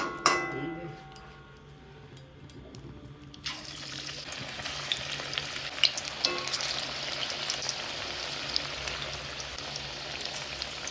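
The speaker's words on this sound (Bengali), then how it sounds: "এক ব্যাচ পকোড়া ভাজা হয়ে গেছে, মানে পেঁয়াজি, আর এখানে সেকেন্ড ব্যাচ চলছে" Onion pakoras, a second batch, fry in hot oil, giving a steady, close hiss and crackle that grows after a quieter, water-like start and carries on to the end.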